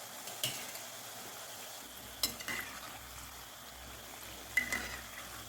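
Jaggery kapnya fritters frying in very hot oil over medium heat, a soft, steady sizzle and bubbling hiss with a few faint clinks of a utensil against the pan.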